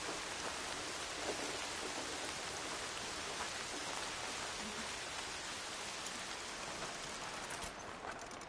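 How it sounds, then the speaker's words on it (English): Steady, even rainfall in the video game Horizon Zero Dawn Remastered hisses throughout, a dense wash of drops with no voices. "More rain. My boots will get damp."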